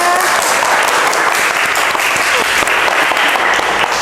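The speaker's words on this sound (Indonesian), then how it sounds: "Silakan tepuk tangan." Classroom students applaud after an ice-breaking activity, a loud, dense burst of clapping that runs steadily for a few seconds close by.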